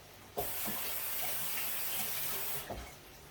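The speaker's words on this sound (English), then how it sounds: "Rinse my hands." A kitchen tap runs steadily as hands are rinsed under it, a soft close hiss of water with light splashing, starting and stopping abruptly near each end.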